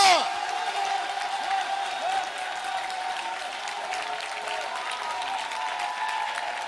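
A church congregation applauds together, producing steady, dense clapping that stays even in level from start to finish, with faint cheers mixed in.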